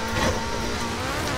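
A jet-powered car in the racing game Forza Horizon 4 gives a steady, loud engine roar with a constant whine, sustained throughout without talk.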